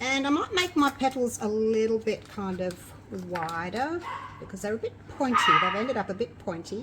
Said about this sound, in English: Excuse my dogs, they're playing in the background.